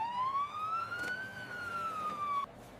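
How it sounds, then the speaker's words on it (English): A single siren wail rises and falls in pitch, fairly loud and steady, then cuts off abruptly near the end. "I can hear the loud police sirens!"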